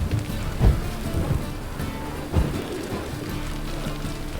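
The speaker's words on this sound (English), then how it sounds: "And it's raining again." Steady rain pattering down in The Witcher 3: Wild Hunt, with a couple of low rumbling thuds, like distant thunder, over a constant wet hiss.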